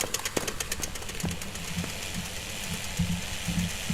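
A power drill running in the ghost-hunting video game Phasmophobia, a steady mechanical rattling hum with rapid repeated knocking ticks, continuous and moderately loud throughout.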